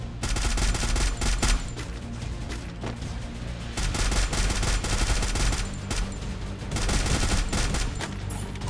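Rapid, continuous gunfire from the Free Fire video game, a turbo-fast weapon firing in dense, loud bursts that run almost without pause.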